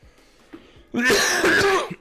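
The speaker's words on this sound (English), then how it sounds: "I had to cough there." A single harsh cough bursts out close to the mic after a quiet moment, short and raspy like clearing the throat.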